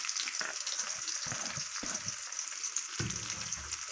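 Chillies fry in a pan with a continuous crackling sizzle. Intermittent stirring knocks sound close and fairly quiet throughout, with no talking.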